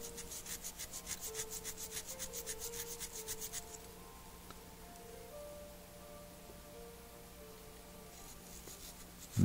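Metal being sanded by hand to smooth out small imperfections on a toy-shop piece before priming, heard as quiet rhythmic rasping strokes for a few seconds, then fading to a faint background hum.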